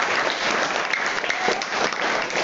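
Audience applause at a Tamil music concert, dense, close, sustained clapping from a large crowd that stays steady and loud throughout with no voices on top.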